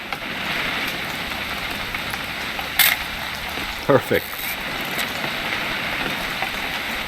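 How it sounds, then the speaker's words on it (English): Steady rain falls in the video game What Remains of Edith Finch, a constant wash of patter over the whole stretch. A few brief knocks sound in the middle, and a voice speaks one short word. "It's gonna rain the whole weekend, isn't it?"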